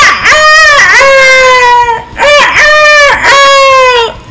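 A rooster crows loudly and close by, three long strained crows in a row with short breaks between them and no other sound.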